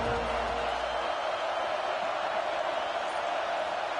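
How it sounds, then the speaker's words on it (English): A football stadium crowd on game day fills the space with a steady, broad, distant roar that holds level throughout without distinct cheers or peaks. "This crowd ready to make its presence known."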